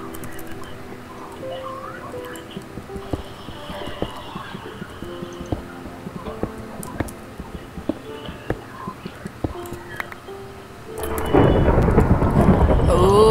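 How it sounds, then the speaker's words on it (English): Rain and rolling thunder in a survival video game, a low steady rumble with scattered crackles that swells into a loud, close downpour near the end while a voice talks faintly underneath. "It's actually thundering outside."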